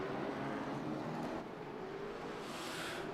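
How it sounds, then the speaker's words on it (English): Race cars roll slowly off pit road at a short track for parade laps, a steady low engine drone with a gently rising pitch toward the end, moderately distant. "Cars are rolling off pit road. We're going to have a couple of parade laps."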